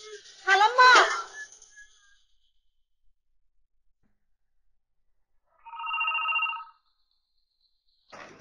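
A telephone rings once as a single electronic trill of under a second, clear against a quiet room, after a person talks briefly at the start.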